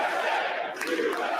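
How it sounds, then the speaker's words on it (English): A dense crowd in a joint session of Congress shouts and chants in unison, loud and continuous for a brief stretch. "Now they chanting back and forth."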